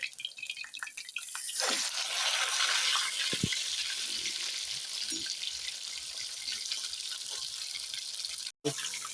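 Large chicken leg pieces deep fry in oil, making a steady bubbling hiss with occasional soft pops and drips. The sound cuts out briefly near the end.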